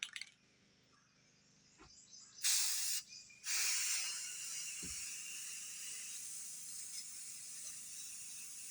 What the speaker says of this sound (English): So as soon as I spray this on, then I can start blotting it.